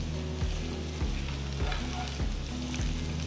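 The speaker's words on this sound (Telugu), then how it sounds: "పొయ్యిని మీడియం ఫ్లేమ్ లో ఉంచి వీటిని మంచి గోల్డెన్ బ్రౌన్ రంగులోకి వచ్చేంత వరకు వేయించాలి" Colocasia pieces fry with crushed garlic in a pan over a medium flame, giving a loud, continuous sizzle with repeated scraping stirs about every half second, and no talking.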